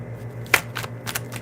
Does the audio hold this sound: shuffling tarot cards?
yes